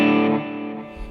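A sustained, distorted electric guitar chord through a Mustang Micro Plus into an amp rings out with heavy drive, decaying gradually over about a second, no voices present.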